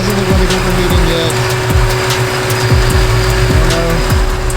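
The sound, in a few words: Ford Terminator Cobra engine idling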